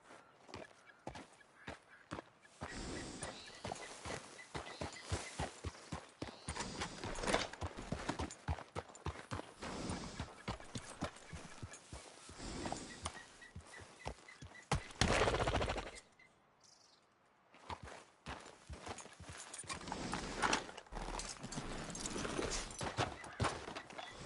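Rapid, rhythmic hoof clip-clops from a horse at a brisk pace in the video game Red Dead Redemption II, briefly pausing before the hoofbeats resume, close and clear.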